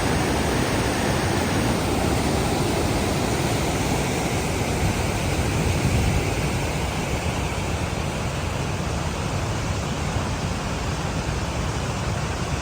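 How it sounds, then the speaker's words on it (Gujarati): Light rain falling at Padamdungari hill station makes a dense, even hiss that stays unbroken and fairly loud throughout, with no voices. "પાછો વરસાદ ચાલુ થઈ ગયો છે ધીમો ધીમો."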